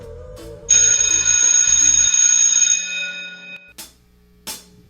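A bright bell rings in a sustained metallic tone for about three seconds after a few soft taps, then decays, followed by two short sharp hits.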